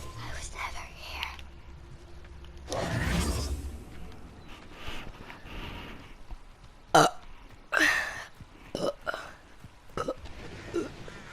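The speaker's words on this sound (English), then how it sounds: "Burp." A person gives a loud burp, close and abrupt, amid whispered talk and hiccup-like bursts while a video game plays softly in the background.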